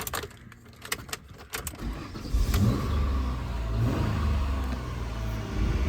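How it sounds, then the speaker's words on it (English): A 2000 Ford Mondeo ST200 estate is started: keys jangle for a couple of seconds, then the engine cranks and fires, and it settles into a loud, steady idle close by. "let's have a little listen to the engine starting up"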